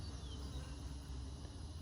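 Honey bees buzzing around a hive frame pulled from a cutout colony, a steady low droning hum held faintly and continuously throughout.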